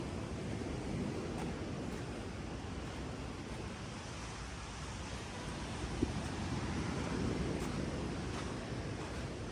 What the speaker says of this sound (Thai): อันนี้ก็เป็น ทะเลนะฮะ ข้างหลังผมก็ มันจะเป็นทะเลเลยแหละ